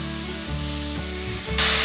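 Enoki mushrooms hit a hot pan with half-cooked potato and carrot for a quick stir-fry, producing a loud sizzle, a few stirring scrapes, and a sudden burst of hissing spray near the end.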